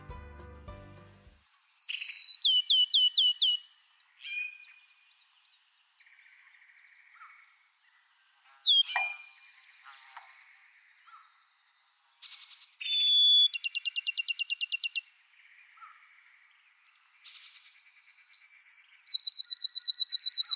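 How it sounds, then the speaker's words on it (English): Bachman's sparrow song in clear bouts in Piney Woods: a long pure whistle followed by a fast trill, repeated several times with pauses, alone outdoors with faint background. "So let's listen to the Bachman sparrow, a Piney Woods specialty."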